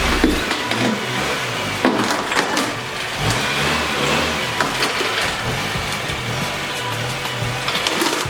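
A 2009 Honda Fit with a manual transmission creeps up onto ramps, its small engine idling and revving unevenly, close and moderately loud, with brief knocks and creaks over the low hum.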